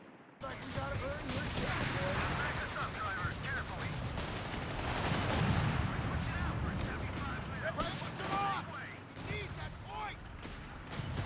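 Rapid machine gun and small-arms fire in Company of Heroes 3, near continuous rattling bursts with scattered louder cracks, while voices speak over the battle.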